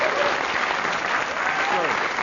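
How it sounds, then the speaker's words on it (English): Steady applause from a studio audience at a comedy talk show fills the room: dense, even clapping from many hands, close and sustained throughout the short stretch. "Let's give him a round of applause there."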